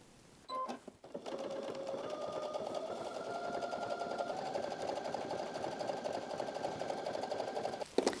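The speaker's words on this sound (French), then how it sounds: "Et faire une couture par-dessus, ce qui va solidifier notre sac." A sewing machine stitches a seam through cotton fabric on a homemade fruit and vegetable bag, running as a steady whirring hum for about seven seconds after a couple of brief handling knocks.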